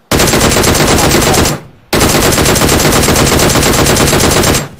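Rapid automatic gunfire in PUBG Mobile, a loud continuous burst of about one and a half seconds, a brief pause, then a second, longer sustained burst, all very close and dominating.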